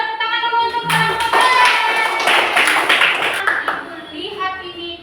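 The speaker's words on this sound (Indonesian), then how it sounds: "Ayo, kita tepuk tangan dulu untuk kelompok." A class of children claps together for a group, a burst of brisk clapping starting after a second and running for several seconds, mixed with children's voices and a teacher talking.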